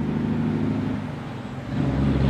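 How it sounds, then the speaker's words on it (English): A big turf truck hauling topsoil rumbles past on a road near Charles City, a loud, continuous broadband engine and tire roar that swells again toward the end. "There's a really big truck coming by in just a minute here."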